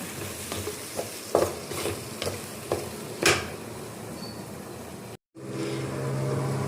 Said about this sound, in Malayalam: അങ്ങനെ നമ്മൾ പൊടികളെല്ലാം നന്നായിട്ട് മിക്സ് ചെയ്യുകയാണ്